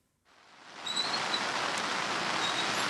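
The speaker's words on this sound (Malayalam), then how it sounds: "അവിടെ നല്ല മഴയുണ്ട്" Heavy rain pours at a river bridge in Kannur, a dense, even hiss that swells in from quiet and then holds steady and loud.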